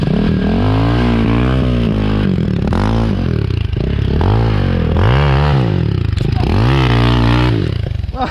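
A KTM 300 dirt bike engine runs loud and close, its pitch rising and falling in repeated revving swells over several seconds, with some scraping clatter and no talk.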